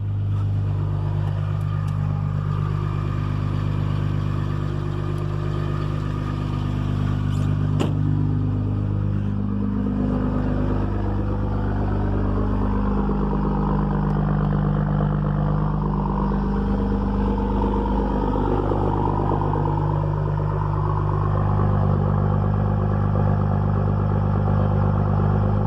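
A Cummins 5.9 diesel engine that has sat unused for days runs at high idle right after a cold start, a steady loud rumbling drone with a faint clatter, alone and unbroken throughout.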